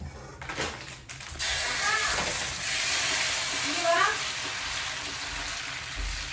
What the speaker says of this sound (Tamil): ஒரு தோசை ஊற்றிடலாம்.